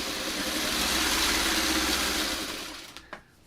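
A sewing machine runs steadily and fairly loudly while stitching the outer border of a quilt. The whirring drone holds for nearly three seconds, then winds down into a few faint clicks.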